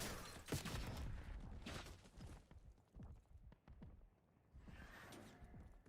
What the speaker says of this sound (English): See, that turret just took out that entire horde. And it will take out all of them.